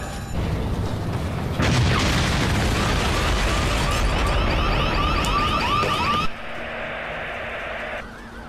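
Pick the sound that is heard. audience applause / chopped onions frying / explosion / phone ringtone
explosion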